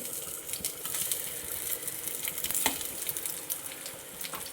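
Ripe plantain slices frying in ghee over a low flame, giving a steady, moderately quiet sizzle and crackle with occasional sharper pops.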